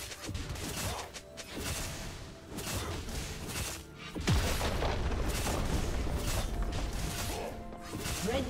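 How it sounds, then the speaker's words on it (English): A turret collapses in League of Legends, crunching mechanical creaks and grinding debris with a deep boom midway, followed by a dense, rumbling clatter that stays loud to the end. "Blue team's turret has been destroyed."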